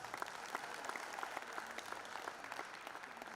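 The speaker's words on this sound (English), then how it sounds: "Let's give them the round of applause for the last time." A council meeting audience applauds young people being recognized, the clapping soft and distant, a steady patter of individual claps across the chamber.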